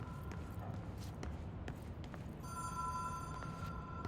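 A telephone rings inside the video game Control, a steady electronic tone that starts partway through and sounds over low ambient rumble and scattered soft footsteps.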